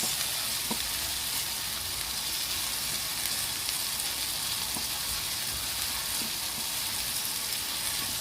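Onion and tomato sauté in a pan with a constant, even, close-up sizzle of hot oil, dotted with faint stirring taps.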